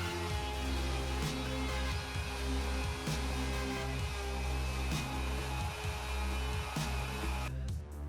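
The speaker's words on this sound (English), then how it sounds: "I began moving the router back and forth, slowly removing away the waste and flattening the slab." Router mounted on a sled flattening a live-edge wooden slab for a bench: a continuous loud motor whine with steady cutting noise, pulsing slightly as the router moves back and forth, stopping abruptly at the end.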